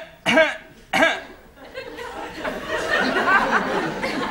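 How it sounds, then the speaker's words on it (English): Two sharp, harsh coughs in quick succession, followed by murmuring voices and light laughter in the background. "That's a bad cough,"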